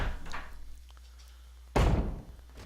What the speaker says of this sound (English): And we have a zombie bursting through the door over here